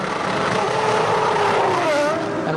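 Formula 1 car in the pits at the 2002 Spanish Grand Prix, engine screaming at sustained high revs with a steady, loud whine and slight pitch wavering throughout, under distant race commentary.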